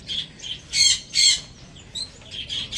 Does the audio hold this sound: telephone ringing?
no